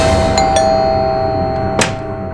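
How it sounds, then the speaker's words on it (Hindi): A household doorbell chimes a couple of times with short gaps, followed by a sharp metallic clang, over a steady background hum indoors. "क्यों पागलों की तरह घंटी बजा रहे हो?"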